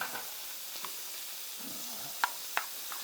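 Onions frying in a pan are stirred, giving a soft, steady sizzle with a few sharp utensil clicks near the end.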